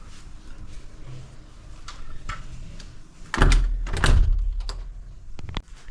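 A hotel room door slides and shuts with a couple of heavy thuds and rattles, preceded by faint room noise and small clicks.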